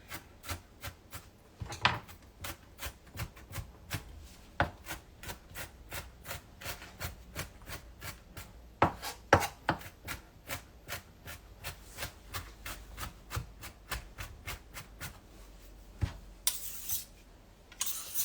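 A knife rapidly and finely chopping shallot on a board while making salmon tartare, crisp close taps in a fast, even rhythm, quiet and continuous with a brief rustle near the end.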